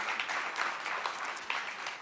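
Audience applause at a keynote address: a dense, steady patter of many hands clapping, moderately loud and continuous, with no talking over it.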